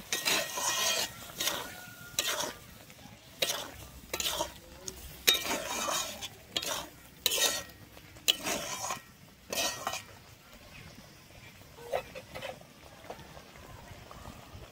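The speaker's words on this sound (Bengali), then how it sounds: "দিয়ে আমি ভালোভাবে মিশিয়ে নিচ্ছি" Spinach moong dal being mixed with salt and sugar in a pot, with a run of loud metal spoon scrapes and clanks against the pot that thin out toward the end, faint sizzling beneath.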